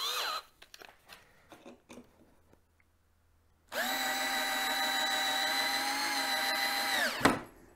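Black and Decker 12V cordless drill running: a few faint clicks and handling taps, then a close, steady high motor whine for about three and a half seconds, ending with a brief rise as it stops.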